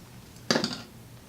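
Scissors snip through a hair weft track while building a closure wig, giving one short, close, crisp cut that then fades into quiet.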